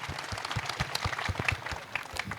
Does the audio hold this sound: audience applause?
yes